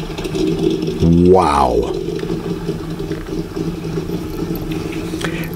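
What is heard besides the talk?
classic car engine running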